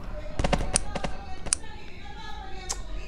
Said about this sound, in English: Oh, auto shotgun.